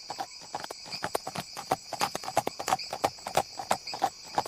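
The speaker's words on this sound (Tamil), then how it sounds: "அந்த காட்டுமலை பாதையில் சற்று நேரம் குதிரைகள் மெதுவாக காலடி வைக்கும் சத்தத்தை தவிர வேறு சத்தம் எதுவும் கேட்கவில்லை" Horses' hooves clip-clop slowly and steadily along a forest mountain path at night, a close, even run of hoof strikes with no other sound around them.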